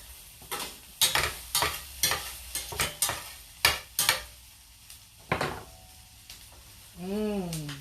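Hoisin sauce heating in a pan, with a run of sharp utensil scrapes and clinks against the pan over a light sizzle, close by. A short rising and falling tone sounds near the end.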